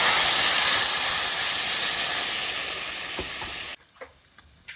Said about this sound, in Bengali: এবার আমি ঝোল দিয়ে দিচ্ছি।